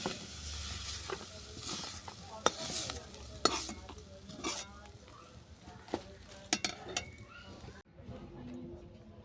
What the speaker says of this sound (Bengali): বাঁধাকপি ভালো করে ভেজে নেওয়ার পর আমি এটাকে নামিয়ে নিচ্ছি